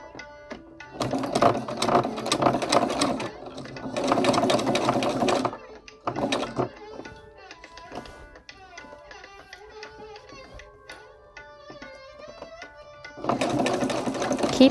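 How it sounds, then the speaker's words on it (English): A sewing machine stitches a hem in curtain fabric, its rapid mechanical whirr running in bursts of several seconds separated by quieter pauses, close and fairly loud, with no talk over it. "So let's go ahead and start it sewing."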